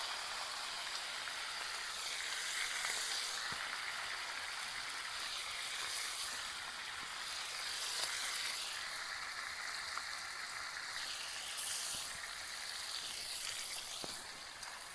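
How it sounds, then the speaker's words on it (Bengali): Washed, salted chicken fries in deep oil, giving a soft, continuous bubbling sizzle with faint crackles at a moderate distance and no talk. "চিকেনটাকে জাস্ট ধুয়ে একটুখানি ভেজে নিচ্ছি।"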